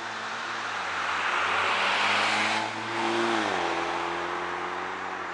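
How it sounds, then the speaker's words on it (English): Steady stream of cars and work trucks passing by on a busy, well-intersected street, with broadband road roar and engine hum rising and falling as vehicles sweep past nearby, no voices. "here's how busy the street gets around this time of day."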